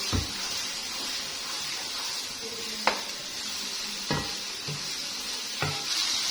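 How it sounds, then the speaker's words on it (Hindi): Softened tomatoes being fried on high heat give a continuous sizzle, and a spoon knocks sharply against the pan three or four times while stirring, with no talking. "इसको जरा मैं तेज आंच पे भून लूंगी"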